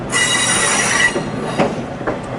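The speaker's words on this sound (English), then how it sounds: "decent size locomotive" A locomotive-hauled train on the Western Maryland Scenic Railroad passes close and loud, with a sustained high wheel squeal over steady rumbling and a few clanking rail joints as the squeal fades.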